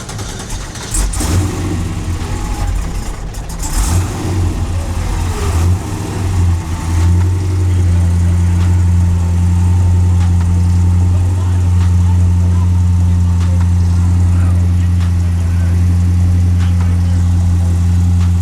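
Recorded engine sound of a 1970 Chevelle plays at a SEMA show booth, starting with a cranking and revving burst and then settling into a loud, steady low exhaust idle, with crowd chatter early on.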